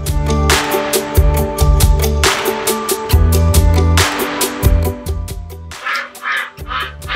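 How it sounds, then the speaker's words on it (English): A duck quacks loudly and repeatedly in bursts on a Texas equestrian estate, with background music underneath. "There's a duck."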